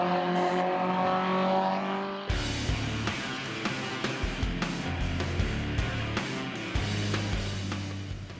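Race cars roar around a racetrack, a continuous engine drone with repeated gear-change surges and passing whooshes at moderate distance, layered over the steady hum of the circuit.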